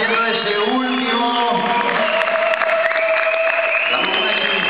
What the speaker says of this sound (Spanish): Fuerte aplauso para los Letters haciendo ese último.